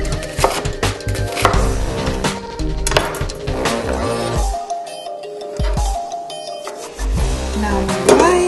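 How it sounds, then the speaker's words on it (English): A knife chops an onion roughly on a board in quick, irregular strikes, close and crisp, over light background music. "Onion. Chop it roughly so that it's easy to blend."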